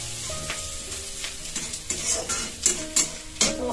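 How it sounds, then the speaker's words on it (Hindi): Onions frying in a pan during Odia-style home cooking, with a steady sizzle and repeated clattering stirs of a utensil against the pan, growing sharper toward the end. "और वहाँ पे देखिए वो ऑनियन जो है वो फ्राई हो रहे"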